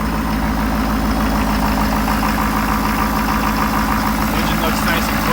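A 2017 Ford F-350 Platinum pickup truck engine idles in cold weather with a steady, low rumble and a faint whooshing note from the turbo or exhaust, unbroken from start to finish.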